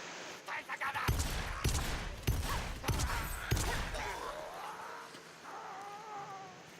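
Bursts of gunfire in the Vermintide video game, several sharp shots spaced about half a second apart, loud and close, followed by lighter game sounds.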